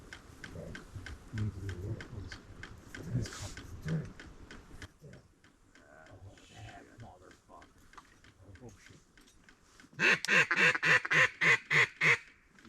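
A duck approaching a boat gives a run of loud, evenly spaced quacks near the end, after earlier stretches of people talking over faint background noise.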